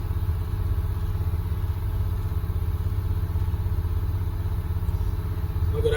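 Engine of the vehicle called The General running at fast idle, a steady low throbbing drone with even rhythm, close and fairly loud, no talk.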